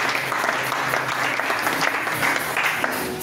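A church congregation applauding at a French-language service, a steady dense patter of clapping hands filling the room for a few seconds, with faint voices mixed in.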